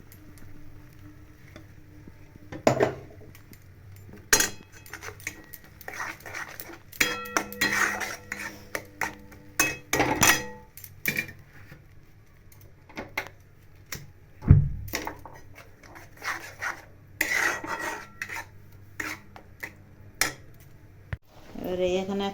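Spice paste is stirred into fried onions in a pan for chicken chaap, giving irregular clanks and scrapes of a utensil against metal with quieter gaps, close and fairly loud, with a low sizzle underneath.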